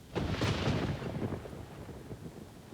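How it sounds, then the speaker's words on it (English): Thunder rolls low and heavy from a storm, a deep rumble that swells early and then grumbles on steadily, with no voices. "Drown out the thunder?"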